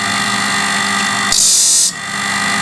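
An automatic grinder sharpens a dull sawmill blade, with a constant close mechanical hum overlaid by a brief bright shrill grinding burst lasting about half a second.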